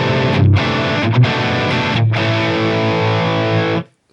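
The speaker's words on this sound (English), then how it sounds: "a fairly tight, sort of sizzly distortion sound" A Peavey 5150 amp model on a Line 6 Helix gives a tight, sizzly distorted guitar tone, holding dense sustained chords with brief choppy breaks, loud and steady before cutting off sharply at the end.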